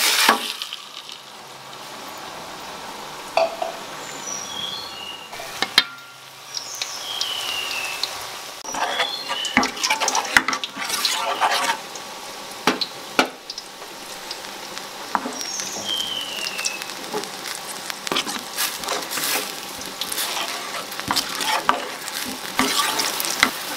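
A ground spice paste frying in a little oil for a dipping sauce, a steady close sizzle with scraping stirring strokes and sharp clicks of a utensil against the pan throughout.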